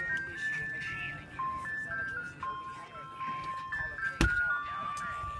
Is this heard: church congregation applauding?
no